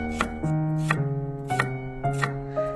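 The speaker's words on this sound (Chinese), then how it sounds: "再改刀切成蒜末" A kitchen knife chops peeled garlic cloves into mince on a cutting board, about six crisp, evenly spaced knocks over steady low background music.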